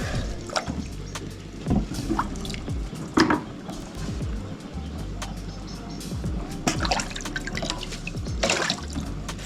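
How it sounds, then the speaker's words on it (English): Water draining and dripping from freshly washed puha greens in a kitchen sink, a steady close trickle with scattered drips and soft splashes throughout. "And then just drain the water."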